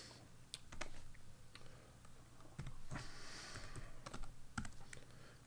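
Someone types a passphrase on a computer keyboard, quiet close key clicks in quick uneven bursts with short pauses in a calm room.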